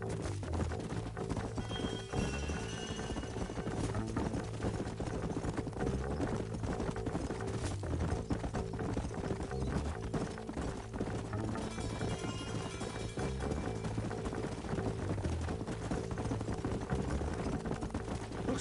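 Horses gallop in Red Dead Redemption, with dense, continuous clip-clop hoofbeats and an occasional whinny under a steady, loud game soundtrack.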